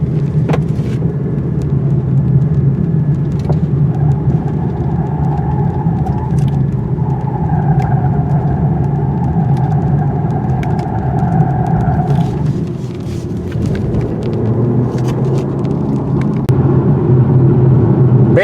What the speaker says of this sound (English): the rumbling noises I'm getting from these run-flat tires is irritating